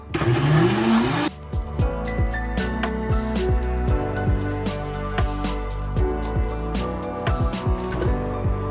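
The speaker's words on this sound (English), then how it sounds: "And then blending, it's super important to blend" A blender whirs loudly, emulsifying butter coffee for about a second before cutting off abruptly, followed by quieter, lingering tonal sounds.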